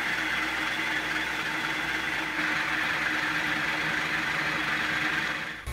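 An Atlas 618 lathe runs steadily while making a plunge cut on a new half nut, giving a continuous even mechanical whir and hum with a faint cutting hiss, no talk.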